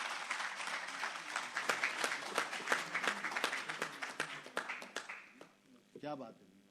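An audience at an Urdu poetry festival mushaira in Abu Dhabi applauds in a steady burst of clapping that gradually thins out, with a voice speaking near the end.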